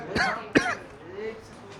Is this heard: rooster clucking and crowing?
no